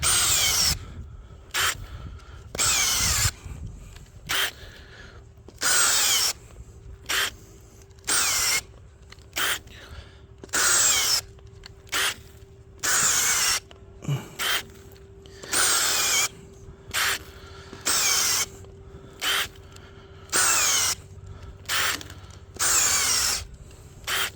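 A cordless drill bores holes in soil in repeated bursts of a few seconds each, separated by short pauses, loud and close with a steady motor whine.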